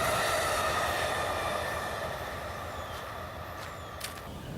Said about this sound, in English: every once in a while a train will go by and it'll be deafening